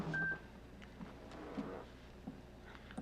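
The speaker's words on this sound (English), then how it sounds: "I heard a ding. I don't know whose phone it is." A phone notification ding during a virtual town hall meeting: one short, bright tone right at the start, followed by quiet room noise with faint scattered clicks.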